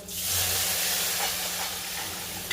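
Cooked dal poured into a hot tadka in a pan for a sweet Gujarati-style dal gives a loud, close, steady sizzling hiss that bursts up at once and carries on without a break.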